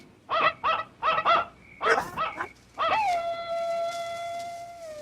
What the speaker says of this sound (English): This almost sounds like a barn owl.